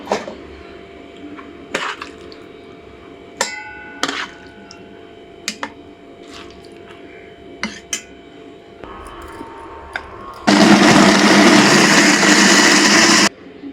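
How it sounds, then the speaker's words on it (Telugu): A kitchen mixer grinder whirs loudly for about three seconds blending a drumstick and tomato chutney, after scattered clinks and knocks of the jar and utensils being handled. "వేసిన తర్వాత మనం చల్లారి పెట్టి మిక్సీ పట్టేసుకుందాం"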